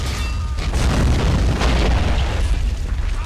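Heavy artillery blasts boom through a battle in the war game Army Men of War, a dense, continuous rumble of explosions with repeated deep bursts close up and no talk over them.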